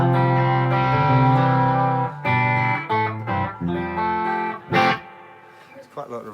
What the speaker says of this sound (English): It's quite a lot of reverb though